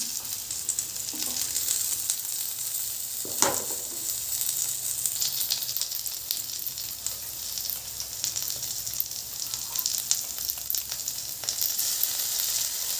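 A teaspoon of ginger garlic paste sizzles hard in hot oil in a pan for a prawn curry, a loud continuous hiss with a sharp spatter near the start and occasional stirring scrapes.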